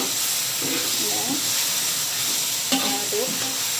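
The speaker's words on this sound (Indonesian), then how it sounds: "Masukin tahu tempe dan sedikit daun bawang, terus kita aduk." Food sizzles steadily in a hot pan while a utensil scrapes and stirs in tofu, tempeh and spring onion, with faint talking in the background.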